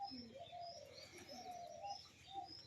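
A Rajshahi high-flying Giribaz pigeon pair, male and female, gives soft, faint cooing and chirping calls over a low background murmur, nearby and gentle, with no talking.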